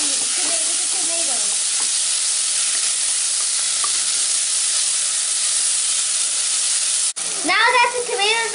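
Chopped tomato and onion fry together in a pan with a loud, steady sizzle and hiss that runs the whole time. Near the end there is a brief stir and a clatter, and a voice talks faintly under it.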